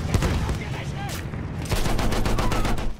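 Battlefield 1 gunfire, dense loud rapid shots and automatic bursts blending into a continuous roar with sharp cracks, close and intense throughout, with a voice briefly heard amid the shooting.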